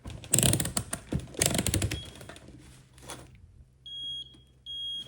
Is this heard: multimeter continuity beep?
yes